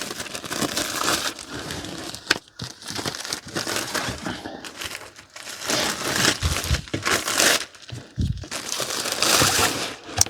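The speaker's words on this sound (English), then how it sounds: "let's just see if I can break the plastic" Plastic shrink wrap on a Taschen hardcover book crinkles and tears as it is pulled open by hand, close and continuous, in bursts of crackling with brief pauses between them.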